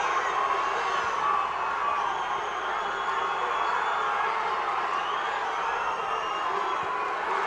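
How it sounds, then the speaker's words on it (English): A boxing crowd roars in a frenzy after an overhand right lands, a dense sustained wall of cheering and shouting that stays loud throughout with no single voice standing out. "Sends it overhand right and sends the crowd into a frenzy."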